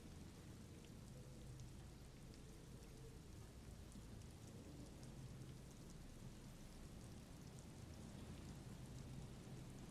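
Steady, dense rainfall in the game Disco Elysium pours down continuously, with a low rumble underneath, like a heavy storm heard from close by.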